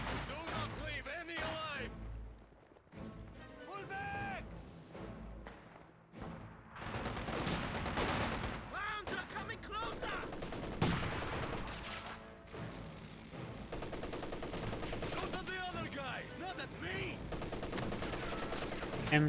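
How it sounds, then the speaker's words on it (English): Battle in the Company of Heroes 2 game, with an MG34 machine gun and rifles firing in dense, continuous bursts and rattling volleys under a commentator's ongoing talk. "MG34 taking pot shots against the Penals"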